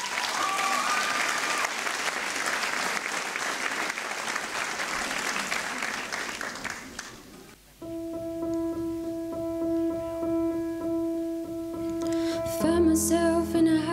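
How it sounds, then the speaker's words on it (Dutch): Warm, continuous audience applause at a 2018 song festival for singer Romy Smit fills the first half, dips, then gives way to music with sustained tones starting up. "Dames en heren, maak een hartelijk applaus voor Romy Smit"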